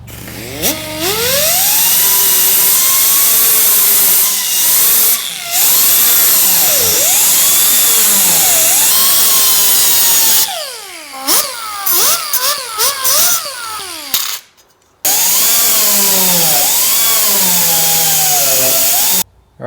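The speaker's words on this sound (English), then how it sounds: "I'll take the roll-lock and just kind of keep sanding and tweaking until this piece actually fits down where I want it" Roll-lock disc sander grinding a metal hood scoop piece on a GTO restomod, a loud, close, high whine that rises and falls in pitch as pressure changes, broken by a few short pauses and restarts.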